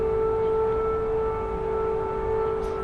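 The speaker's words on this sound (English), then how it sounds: "a broken air raid siren" A malfunctioning air raid siren on a live camera feed from Ukraine holds a steady, unwavering tone with harmonics over a constant background hiss, continuous throughout.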